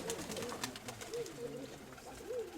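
A pigeon or dove coos softly in repeated low, rolling phrases at a moderate distance, over a faint outdoor background with light scattered clicks.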